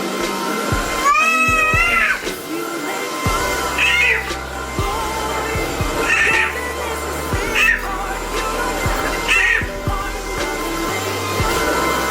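A pet cat meows repeatedly at a running household vacuum cleaner, several drawn-out, insistent cries spaced a couple of seconds apart over the steady loud drone of the machine.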